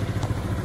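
A Zontes 368G motorcycle engine gives a brief, steady, close mechanical rumble with a faint clatter.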